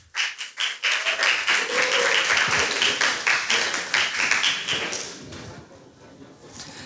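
Audience clapping at a live talk event in a hall as a guest is called onstage, a burst of many hands that swells quickly, holds steady, then thins out toward the end.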